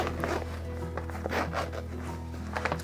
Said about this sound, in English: Nice waterproof zipper.